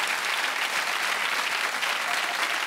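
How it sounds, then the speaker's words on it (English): A television comedy studio audience applauds, a dense, loud, sustained roar of many hands clapping at once that stays steady without any speech over it. "A round of applause for Hitler."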